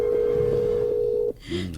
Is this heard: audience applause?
no